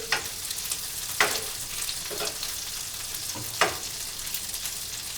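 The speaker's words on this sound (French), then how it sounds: "je les fais revenir très légèrement dans du beurre tout simplement" Shrimp sauté lightly in butter in a hot pan ahead of flambéing, with a constant close frying sizzle and a few sharper crackling bursts as they are moved around, with no talk.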